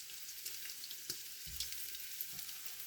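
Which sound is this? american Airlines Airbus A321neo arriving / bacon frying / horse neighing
bacon frying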